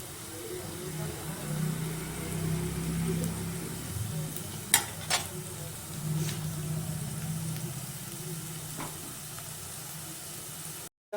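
Cabbage, carrot and capsicum stir-fried in a pan for Cantonese chicken give a soft, steady sizzle with occasional sharp clicks of a utensil against the pan, fairly quiet throughout.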